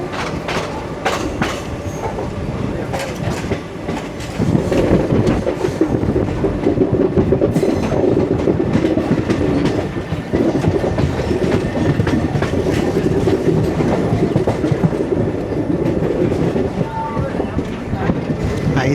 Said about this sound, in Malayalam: ICF train meeting another ICF train both with Wagonine.